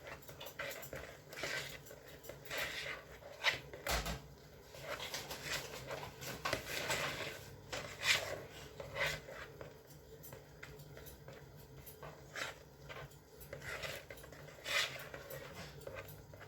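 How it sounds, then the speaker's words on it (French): A utensil stirs gluten-free tiramisu ingredients in a bowl, giving soft, repeated scraping and clinking taps at a close, low level. "On mélange le tout délicatement."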